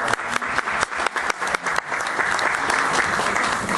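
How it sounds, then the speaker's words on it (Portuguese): Applause from an audience at a book launch in a Fortaleza bookstore starts as a few distinct, sharp claps and quickly swells into steady, dense clapping. "por favor, aplausos"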